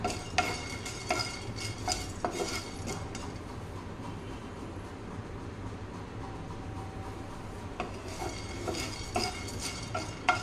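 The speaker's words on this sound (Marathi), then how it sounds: "डाळ अशी भाजून घ्यायची, चांगली मस्त ब्राऊन करून घ्यायची आहे" Dal roasts in a pan on medium heat for a South Indian chutney, with repeated scraping and clinking of a spoon against the pan in bursts over a soft background sizzle and hum, and no talking.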